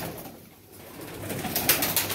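Sialkoti pigeons cooing at low volume, with soft, pulsing coos that rise over a low background rumble toward the end.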